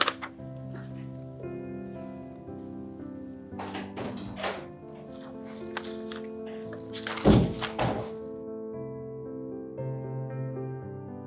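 A few hollow thunks of knocking on a door sound over a musical film score, with one louder cluster of knocks partway through.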